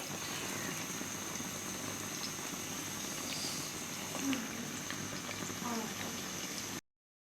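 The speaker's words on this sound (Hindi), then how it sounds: "प्याज को लाइट ब्राउन होने तक मैं इसको फ्राई करूंगी इसमें" Onions sizzling to light brown in hot oil in a pan for an aloo and green chickpea curry, a steady close crackle and hiss that runs evenly throughout and then cuts off abruptly near the end.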